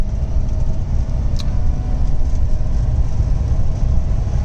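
A classic Lancia Flavia Milleotto cruises along quiet Warwickshire country lanes, its engine and road noise forming a loud, steady drone throughout with no talking.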